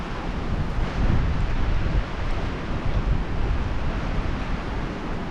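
Strong wind gusts buffeting a tarp tent made with PVC pipe at a camp, a loud roaring rush that swells and eases over a few seconds, close to a muffled microphone with no voices.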